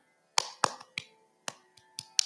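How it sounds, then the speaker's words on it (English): Single pair of hands clapping at a steady, deliberate pace, seven or so sharp close claps separated by clear quiet gaps, no voices. "If I'm going to clap like this, there is a gap, right, between each of the clap."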